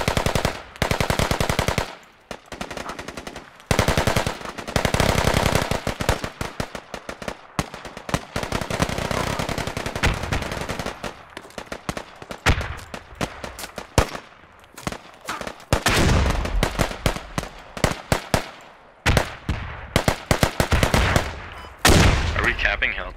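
Heavy gunfire in the military shooter game Squad, with dense machine-gun bursts and single shots crackling loud and close in rapid irregular volleys, nearly continuous with short gaps.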